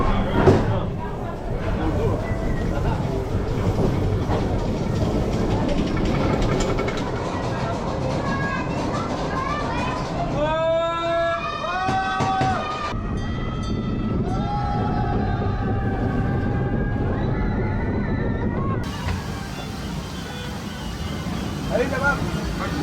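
The Calamity Mine mine train roller coaster at Walibi Belgium rumbles and clatters along its track, with squealing wheel screeches in the middle and crowd noise and talk mixed in throughout.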